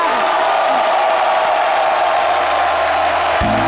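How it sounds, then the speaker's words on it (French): Steady, dense applause from a studio audience on a midday television talk show in Côte d'Ivoire, welcoming a guest. The clapping fills the whole stretch at an even level, with a low hum entering near the end. "de la célèbre Joyce Tapé, que je vous demande d'applaudir"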